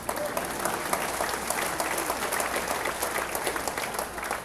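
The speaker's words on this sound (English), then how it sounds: "Clap your hands." A crowd claps at a Bo Sanchez talk, in a dense and fairly even patter of many hands that holds steady throughout, slightly distant and with no clear voices.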